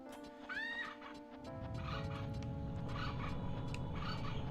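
A bird clock in Zelda: Majora's Mask, faint chirping, clucking bird calls over steady tonal game music, with a brief rising warble near the start.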